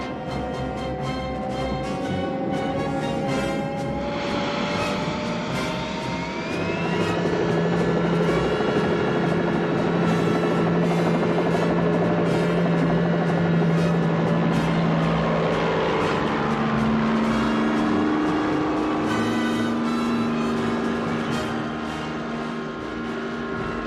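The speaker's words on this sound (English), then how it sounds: "Won't the noise of the helicopter drown out your sound?" A rescue helicopter roars loud and steady throughout, its rotor and engine drone shifting in pitch as it passes, with no voices over it.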